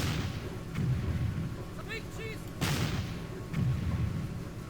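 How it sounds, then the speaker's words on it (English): Field artillery fire in the WW1 strategy video game Battle Academy, a few low rumbling booms spaced about a second apart over steady battlefield ambience, with faint higher tones between them. "We've got some field artillery. Can't end the turn without field artillery."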